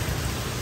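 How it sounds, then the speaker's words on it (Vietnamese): Heavy rain pours down in a thunderstorm, a dense, steady hiss of water with no voices over it. "Trời mưa tầm tã luôn"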